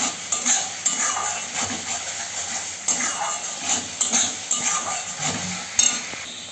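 Chicken sautéing with salt, turmeric and ginger-garlic paste, a bright constant sizzle overlaid with repeated scraping and clinking strokes of a spoon in the pan, close up and without speech.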